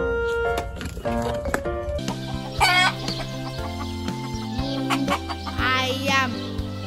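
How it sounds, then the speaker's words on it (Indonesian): A yellow toy chick plays electronic chicken clucking and crowing sounds mixed with bright, tuneful toy tones, loud and steady throughout with no talking. "Mainan ayamnya berwarna kuning. Wow, ini mainan anak ayam."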